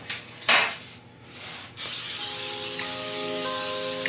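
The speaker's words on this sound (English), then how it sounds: "I'm gonna go ahead and spray my pan" A few soft knocks, then a long steady hiss of cooking spray onto a cupcake baking pan close by, with music playing underneath.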